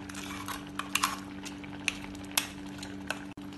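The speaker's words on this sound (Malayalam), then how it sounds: "ഇതൊന്ന് ഇളക്കി കൊടുക്കാം" Spoon scraping and clinking in a pot of Mangalore-style mango curry made without coconut, a few sharp metallic taps over a steady low hum, close and moderately quiet, with no talking.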